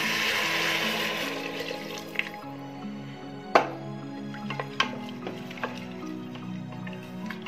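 Water poured into rice for a Punjabi-style veg pulao, at double the rice's volume: a close, steady pouring and splashing of liquid with scattered drips and small clinks, and no voices.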